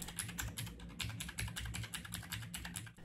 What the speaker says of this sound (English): The keyboard I'm using is the iRox K85R in ice white color.